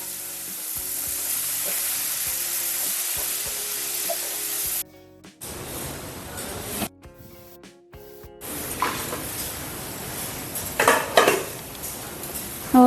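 Fried fish goes into a kadai with clattering metal and utensil knocks, followed by steady bright sizzling and stirring that swells louder toward the end, up close with no talking.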